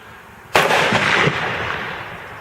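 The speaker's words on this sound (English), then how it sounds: "My wife is about to find out what exploding targets are all about." A single sharp, loud blast as a gunshot detonates an exploding target outdoors, followed by a booming rumble that fades over about two seconds, no talking.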